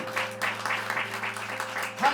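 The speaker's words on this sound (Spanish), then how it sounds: "¿Cuánto le dan un fuerte aplauso al Espíritu Santo?" Church congregation applauding, a dense patter of many hands clapping at a moderate distance, steady for about two seconds with a sustained organ-like tone underneath.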